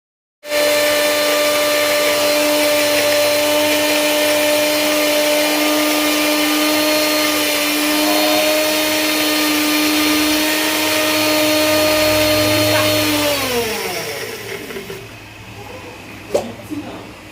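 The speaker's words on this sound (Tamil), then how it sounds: "இப்போ நல்லா அரைச்சி எடுத்துக்கலாம் அதாவது நல்லா கிரைன் ஆயிரும் நம்ம குட்டி ஜாரில் போட்ட வரைக்கும் நல்லா கிரைன் ஆயிரும்" A small mixer grinder jar whirs steadily at close range for a long stretch while grinding baby food, its high motor whine holding even before winding down and stopping near the end, with a brief knock afterward.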